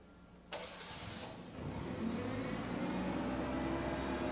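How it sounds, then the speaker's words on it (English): A propane-powered forklift engine runs, starting with a short sharp burst and settling into a steady, fairly quiet mid-pitched idle drone that continues alone. "If the forklift is powered by propane, refueling means simply changing tanks. Before you begin, close the fuel line valve, but in this case, keep the engine running."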